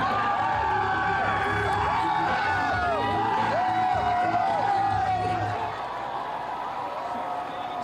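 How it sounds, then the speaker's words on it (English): Carolina Hurricanes fans celebrate a Game 5 win that puts the team one victory from the Cup: a dense crowd roar with rising whoops and shouts, loud and continuous, easing off slightly in the final seconds. "Oh, all that cheering makes you feel so excited."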